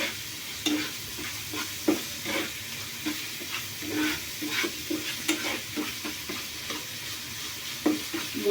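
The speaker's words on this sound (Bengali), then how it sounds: "মশলাটাকে কষিয়ে নেব" Ground spices such as turmeric, chilli powder and cumin powder are stirred and fried in oil for a dhokar rezala, steady sizzling with repeated scraping stir strokes throughout, close and alone.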